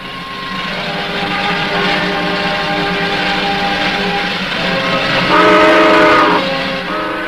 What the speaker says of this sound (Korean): 기차는 떠나갔습니다